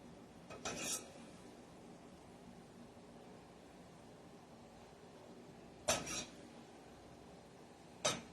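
A knife works through a mango for spicy mango sauce, giving a brief scraping cut near the start, then two more short, sharp slicing scrapes later, close by and separated by quiet stretches.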